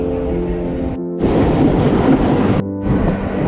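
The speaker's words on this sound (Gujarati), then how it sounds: "આ છે મુંબઈની આન બાન અને શાન, મુંબઈ લોકલ" A Mumbai local train runs along the track, giving a loud rumbling roar broken by two brief dips. A humming tonal drone sounds in the quieter stretches.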